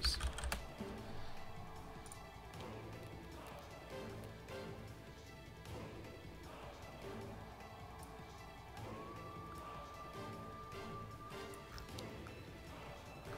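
Typing on a computer keyboard, a steady run of soft clattering keystrokes under a low room hum, with a faint tone entering partway through.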